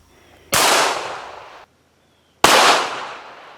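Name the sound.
rifle shot hitting recycled milk jug plates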